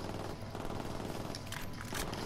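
Mounted machine gun firing rapid sustained bursts in Ghost Recon Wildlands, a dense, continuous rattle of automatic fire heard up close and loud.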